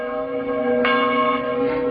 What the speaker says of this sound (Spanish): las campanas de la iglesia empezaron a tocar espontáneamente